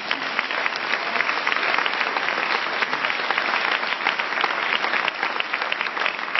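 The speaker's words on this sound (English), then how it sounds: "give these guys a big round of applause, please." Sustained applause from a live audience at an indoor company event, steady dense clapping filling the room throughout with no pauses.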